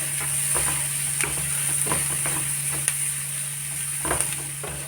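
Chicken samosa filling with crushed pepper stirred in a pan, a steady sizzle under repeated scraping and tapping strokes of a spoon, close and fairly loud, with a constant background hum.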